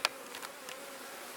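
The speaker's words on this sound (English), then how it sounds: "Now more bees coming out." Honey bees buzz around an open, aggressive hive during an inspection, a soft continuous hum with a few brief louder passes as bees fly near, and no talking.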